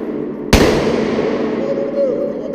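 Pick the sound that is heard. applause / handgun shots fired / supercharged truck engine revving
handgun shots fired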